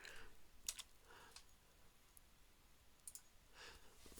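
Sparse keystrokes on a computer keyboard, clicking in short scattered bursts with pauses between them, faint and close with no talk.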